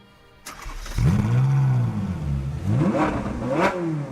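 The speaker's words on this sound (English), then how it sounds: "Talking of which, let's fire it up." A Ferrari 458 Italia with a 4.5-litre V8 and triple exhaust fires up with a sharp starter burst, then settles into a loud, close idle broken by two quick throttle blips that rise and fall.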